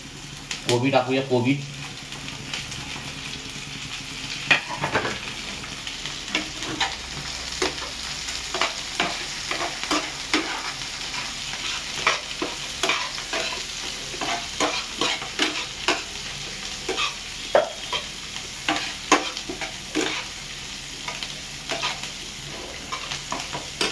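Onion and cabbage frying in a pan for cabbage fried rice, a close, steady sizzle broken by frequent scraping stir strokes throughout, with no talking.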